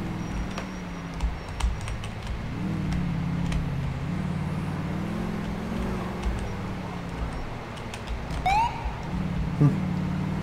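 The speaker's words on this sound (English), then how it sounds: "I just chirped my siren right there." Brief police siren chirps from a patrol car in GTA IV, short rising whoops near the end over steady engine and road noise, with a faint warbling tone earlier.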